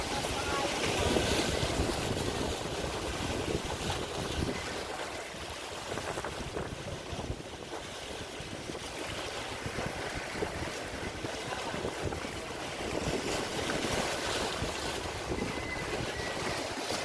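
Strong wind buffets the microphone while rough sea in Quezon, Philippines, splashes and surges throughout, a constant loud roar with no clear pauses.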